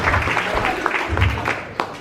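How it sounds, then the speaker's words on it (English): An audience applauds at an outdoor public event after a congressman is thanked, a brief burst of dense, close clapping. "while we're applauding"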